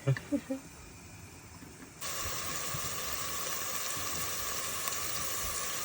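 Food frying in a pan at a cave caravan camp in Ovabaşı, Anamur, where taro (gölevez) is being cooked; a few sharp knocks come first, then a steady, close, hissing sizzle starts abruptly and holds to the end.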